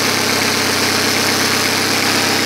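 A 2000 Saturn LS with a freshly swapped 2.2 litre Ecotec engine idles as it warms up, antifreeze not yet topped up. It gives a loud, steady, close hum with an even low throb and no voices.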